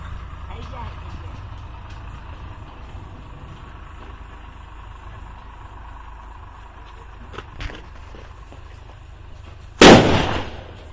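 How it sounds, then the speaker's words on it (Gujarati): A firecracker goes off in a Jamnagar, Gujarat village with one sharp, loud bang near the end, after a long stretch of low outdoor background and quiet voices. "રેડી થઈ ગયા ફટાકડા ફોડવા માટે"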